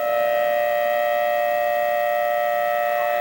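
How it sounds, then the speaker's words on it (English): An all-clear civil defense siren in Iraq during the 2003 US invasion holds a steady, unwavering tone with strong harmonics, sounding continuously and loudly throughout with no voices. "What you're hearing there is the all clear siren."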